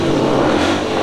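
A 1970s two-valve Jawa speedway motorcycle engine roars at high revs, loud and continuous for about a second at a speedway practice, with no talking over it.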